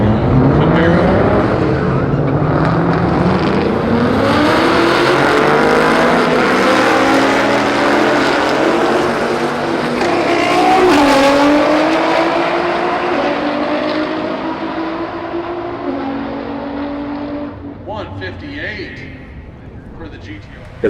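Street race cars accelerate hard at a Charlotte 2022 street car takeover event, a Camaro among them, with loud engine roars rising in pitch through gear changes and fading off into the distance while people talk over them.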